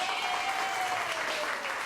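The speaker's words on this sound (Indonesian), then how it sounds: "kasih tepuk tangan" A classroom of students applauds briefly, a soft, even patter of many hands clapping, faint and steady from start to finish.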